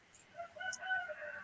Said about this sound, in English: I just heard a rooster crow